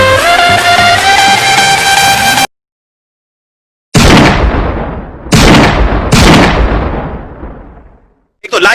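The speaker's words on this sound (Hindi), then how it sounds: "मैं इसको गोलियां चला रहा हूँ इसके ऊपर" Gunfire in PUBG Mobile, first a sustained loud burst with music, then after a silence three heavy booming shots or blasts that each ring out and decay.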